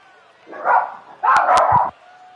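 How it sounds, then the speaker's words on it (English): Dogs bark indoors at home, giving two close, loud bursts of barking and yipping, the second longer, with quiet room noise before and after. "Ridiculous part about my dogs barking"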